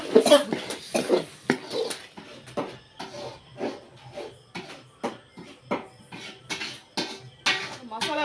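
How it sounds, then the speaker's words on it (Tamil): A spoon stirs cauliflower masala in a cooking pan, making repeated uneven scraping clanks against the metal, with a voice faintly present at times. "இதையும் சேர்த்து நல்லா கலந்து விட்டுக்கலாம் மசாலாவுக்கு"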